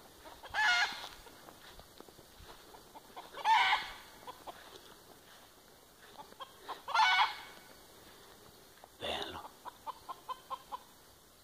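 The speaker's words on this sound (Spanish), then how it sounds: "el gallo nos está indicando que vino el halcón" A rooster and hens cluck in agitated bursts at a hawk, with a run of short sharp alarm clucks near the end, close by and fairly loud.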